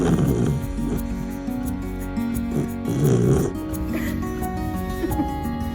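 Steady, rhythmic snoring, up close, with a snorting, rumbling breath heard twice, over a constant background hum.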